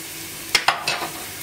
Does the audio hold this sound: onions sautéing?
yes